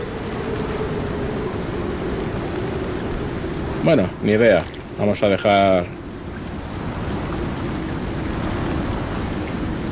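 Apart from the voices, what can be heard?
rain storm in the video game Icarus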